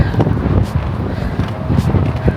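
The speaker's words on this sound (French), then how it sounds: "en plus il y a du vent, ça tape genre le vent dans la gueule" Wind buffeting a microphone on a steep hill in San Francisco, a steady low roaring rush with gusty swells throughout, loud and close with no talking.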